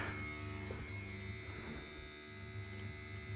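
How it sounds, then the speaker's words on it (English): Low, steady mechanical hum with a faint buzzing whine and occasional irregular rattles from a boiler pump making strange noises, no talking. "Pump is making some strange noises."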